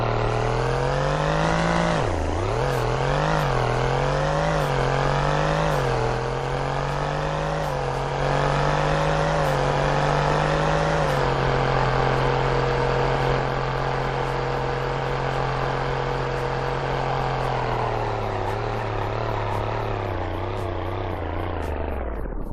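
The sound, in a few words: car accelerating 0 to 100 and braking in Roblox TruckPlanet video game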